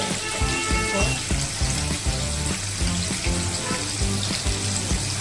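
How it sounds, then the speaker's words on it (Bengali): Paneer pieces frying in hot oil make a steady, close bubbling sizzle with dense crackles running throughout, loud and continuous with no voices. "ততক্ষণ আমরা গল্প করি, পনিরগুলো ভাজা হচ্ছে।"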